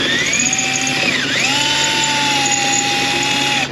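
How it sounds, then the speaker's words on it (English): A power drill bores out rivets on the fuel tank door of a Toyota Sienna 3.5, a loud continuous close whine that holds steady, dips in pitch once as the bit bites, then settles again, with no talking. "they must be drilled off in order to remove the fuel tank door. Begin drilling now."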